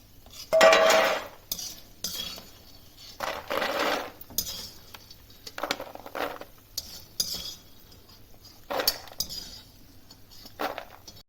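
Fried makhana (fox nuts) being lifted out of a pan, a handful of separate clinks and scraping clatters of a metal spoon against cookware, spaced a second or two apart with quiet gaps.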